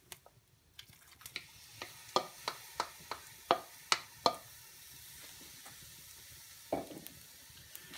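Drained black beans, fire-roasted tomatoes and canned green chilies tipped into a pot of off-grid tortilla soup: a quiet run of wet plops and sharp clinks in a rapid series, fading into a soft simmer.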